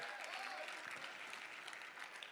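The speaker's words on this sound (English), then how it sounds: "Give a big round of applause." Gala audience at an ALS foundation benefit auction applauding a donor, a brief dense patter of clapping heard somewhat distant and fairly faint.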